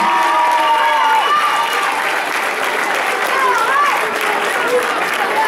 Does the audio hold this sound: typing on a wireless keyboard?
no